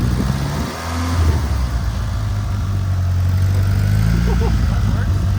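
A Mitsubishi Eclipse engine runs steadily as the car rolls forward under its own power, a low rumbling hum held throughout at close range with people talking over it.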